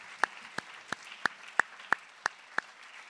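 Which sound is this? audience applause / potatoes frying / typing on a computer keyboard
audience applause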